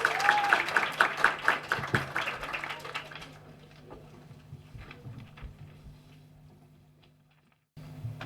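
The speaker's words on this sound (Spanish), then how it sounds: "Un aplauso para Ángel" At a university literature colloquium, an audience claps for speaker Ángel, a brisk round of applause that fades after about three seconds into low room hum and scattered small noises, with a brief louder rustle at the very end.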